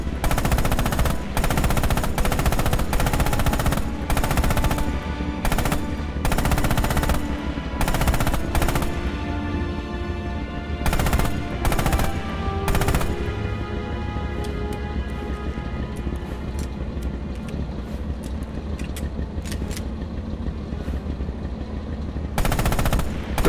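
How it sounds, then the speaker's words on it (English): A tank's hull-mounted machine gun fires in the video game Red Orchestra 2 during German campaign tank training: sharp rapid bursts early, then another cluster midway, with a continuous rattling background between them. "Use the hull MG and open fire on the targets."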